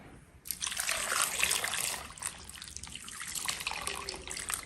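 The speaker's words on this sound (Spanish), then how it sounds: "le voy a agregar agua hasta cubrirlas" Water runs steadily from a tap into a pot of cut potatoes seasoned with bay leaves and salt, a loud continuous splashing pour that starts abruptly and carries on throughout with no talking.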